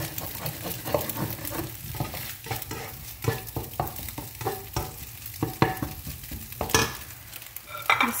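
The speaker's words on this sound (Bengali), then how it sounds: "এখন এটা সব মিক্স করে দিলাম।" Garlic, vegetables and leftover rice fry in a pan for fried rice, with a steady sizzle under repeated scraping and stirring strokes of a spatula, close and lively.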